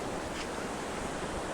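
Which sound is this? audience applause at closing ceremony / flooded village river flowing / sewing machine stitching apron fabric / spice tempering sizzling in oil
flooded village river flowing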